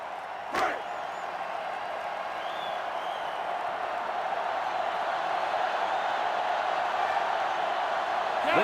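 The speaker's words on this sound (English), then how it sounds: "This sellout crowd is really making a difference now as these guys can't even call the play." A sellout stadium crowd in a college football video game, Maryland against Texas, gives a sustained roar that swells steadily louder after a single sharp thud near the start.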